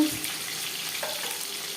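Loud, continuous sizzling of chitol fish frying in hot oil, steady and close throughout.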